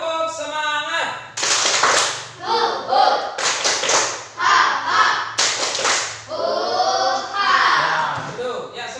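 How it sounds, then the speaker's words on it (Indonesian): A classroom of students doing a 'tepuk semangat' rhythmic clapping chant, sharp bursts of group claps in a patterned rhythm alternating with shouted chanting voices, loud and close. "Kita tepuk semangat biar semangatnya kembali ya. Oke, tepuk semangat."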